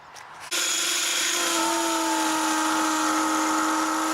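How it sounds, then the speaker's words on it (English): A masonry drill starts abruptly drilling into concrete and whines at a steady high pitch, grinding continuously and loudly up close after a brief quieter moment. "We drill the hole with a regular concrete masonry drill"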